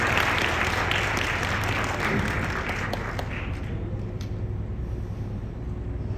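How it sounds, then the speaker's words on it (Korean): A wedding crowd claps steadily in a dense wash of applause that slowly thins toward the end. "박수 부탁드리겠습니다"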